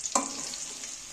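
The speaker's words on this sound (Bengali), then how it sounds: "আরও একটু ভাজতে হবে আলুগুলো" Potatoes for aloo dum frying in a pan, stirred with a sharp scrape near the start and then a steady soft sizzle that holds throughout, close by with no voices.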